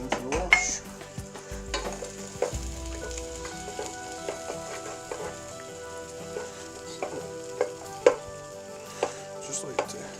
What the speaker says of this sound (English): add the onions and the garlic into the pan